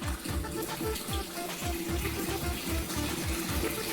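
Water gushes steadily from a tap or hose while plants are being watered, a dense, continuous splashing rush that stays loud and close throughout.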